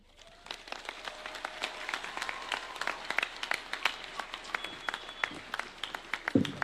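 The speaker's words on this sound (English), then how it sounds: "Another round of applause for the Chancellor, Cooperative University, Dr. Bernard Chitung" A crowd claps steadily at a university chancellor's installation ceremony, a dense patter of hands from a moderately distant audience that continues throughout.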